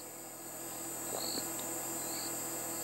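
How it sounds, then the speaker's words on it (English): Constant high-pitched droning of cicadas at a summer sunrise in the Sabi Sand reserve, steady and fairly faint, with a few brief chirps on top. "there are some cicadas calling"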